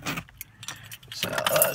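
Keys pulled out by hand near a car jangle and clink in close bursts, briefly pausing and then rattling again more steadily.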